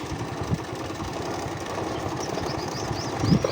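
A motorcycle engine running steadily while riding along a rural road in Pakistan, a low rough rumble with constant vibration, close and fairly even, growing slightly louder near the end.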